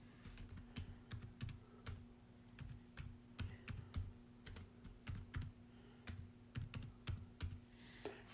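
Fingers type text into a presentation on a computer keyboard, with a steady run of quiet, close key clicks in irregular bursts and short pauses over a low electrical hum.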